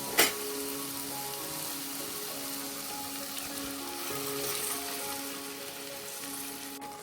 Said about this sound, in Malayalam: നമുക്കിനി ഇതിലേക്ക് നമ്മുടെ ബീഫ് ചേർത്ത് കൊടുക്കാം.